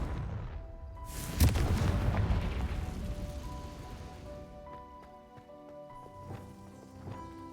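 A Confringo fire-blast spell from a Harry Potter video game goes off with a sharp, loud explosive crack, followed by a long rumbling decay and lingering crackle that slowly fades, with light game tones underneath.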